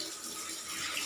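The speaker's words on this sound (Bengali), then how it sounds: "বাসন মাজা হয়ে গেছে, এখন ধুচ্ছে।" Tap water runs steadily into a kitchen sink as dishes are rinsed after scrubbing, a continuous close hiss of splashing water with no talk.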